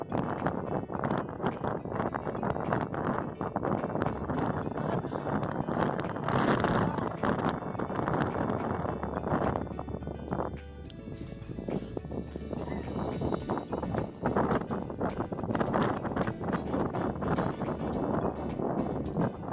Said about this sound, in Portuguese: Que vento forte.